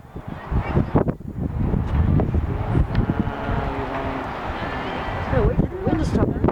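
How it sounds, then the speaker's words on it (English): Wind gusts and rumbles across the microphone beside the Black Pool hot spring in Yellowstone National Park, a steady rushing roar while people talk over it. "wait for the wind to stop"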